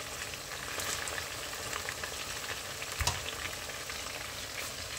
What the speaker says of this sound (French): On va laisser cuire le poisson pendant quelques minutes